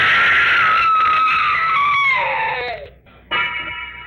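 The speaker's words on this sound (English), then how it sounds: "Wish I never heard that scream." A woman's high, sustained scream as a sound effect in an old radio mystery drama, sliding downward in pitch before breaking off, then a brief burst of sound following the pause.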